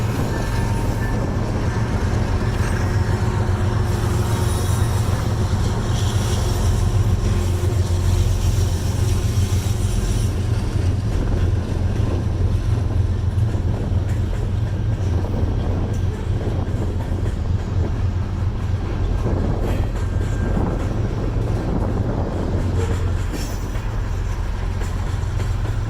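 A freight train rumbles past close by at a crossing near Niagara Falls for the whole stretch, a steady low roar with rhythmic wheel clatter and metallic rattling, no talking.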